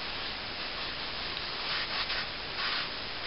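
A cloth rubs a finish onto a plywood artist's palette, a soft steady scrubbing hiss with slightly stronger strokes toward the end, quiet and close, with no voices.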